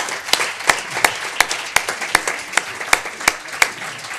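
An audience at a talk claps, heard as sparse, evenly spaced individual claps at moderate loudness over a quiet background, more like a thin scattered round than a full ovation.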